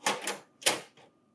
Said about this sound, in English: Close door A.